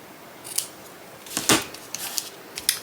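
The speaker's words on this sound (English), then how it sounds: "I'm going to take my paper snips and just snip off my excess ribbon" Paper snips cut excess ribbon while finishing a handmade floral card, giving several short, crisp metallic snips spaced irregularly, close and clear against a quiet background.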